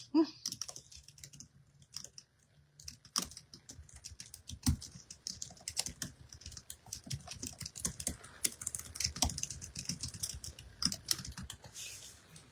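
Quick, steady tapping on a computer keyboard fills the clip, close and fairly quiet, in bursts of rapid keystrokes with short gaps between them.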